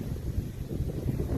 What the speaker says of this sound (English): Very windy fall day.